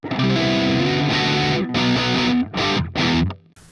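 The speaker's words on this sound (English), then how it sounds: "And then there's the distortion, and it's, relatively speaking, quite a limited piece of equipment." An electric guitar runs through the distortion stage of an ADA MP-1 Classic tube preamp, ringing out sustained, heavily saturated chords, then several short chopped stabs that cut off abruptly.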